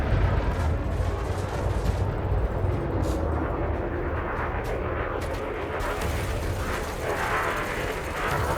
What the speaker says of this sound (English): Blasting with my cannon.